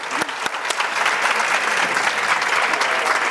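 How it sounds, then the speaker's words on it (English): Sustained applause from a conference audience in Malaga, steady dense clapping filling the hall from start to finish with no talk over it. "A big applause."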